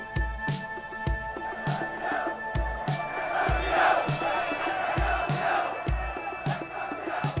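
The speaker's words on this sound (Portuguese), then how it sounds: "O grito emocionado da torcida tomou conta da cidade assim que o jogo terminou." Flamengo football fans in Rio de Janeiro celebrate the 1981 world title, a crowd roaring and chanting in rhythmic waves with regular heavy drum beats underneath, loud and sustained.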